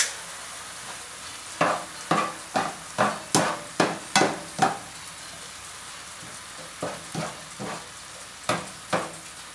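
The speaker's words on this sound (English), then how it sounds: "I'm just gonna mix the meat real quick." Ground meat mixture for stuffed peppers is mixed in a bowl, a series of quick, sharp slapping and squelching strokes in a fast run, then a pause and a few scattered strokes, fairly close; no talk.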